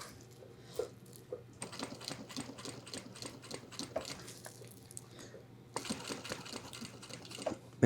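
A sewing machine stitches a backpack strap close to the foam padding, running in quick bursts with short pauses between them, moderately quiet over a steady low hum.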